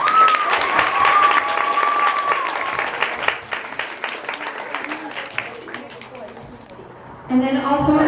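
A school gym crowd claps for students at a gym dedication, with steady dense applause lasting several seconds, fading slightly, then a voice speaking over it near the end.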